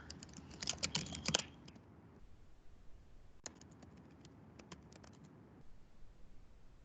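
Typing on a computer keyboard while demonstrating a chatbot in Azure: a dense flurry of quick key clicks at the start, then quieter scattered keystrokes and a few sharper taps, close and dry, with no talking.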